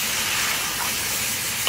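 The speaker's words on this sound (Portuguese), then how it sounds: "E agora a cebola vai desidratar e ela vai jogar água, né?" Chopped onion cooks with seasoned beef rump in a pan, releasing water and steaming with a steady, close, loud hiss and faint sizzle throughout.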